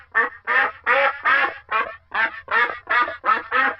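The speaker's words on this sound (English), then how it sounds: "Duck." A duck quacks loudly and steadily, about ten evenly spaced harsh, nasal calls in a row, close and clear with nothing else around them.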